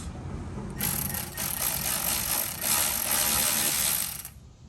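A ratchet with a 7mm socket loosens a bolt on a 2024 Mustang GT, making close, fast, continuous clicking that starts abruptly and runs for several seconds before stopping.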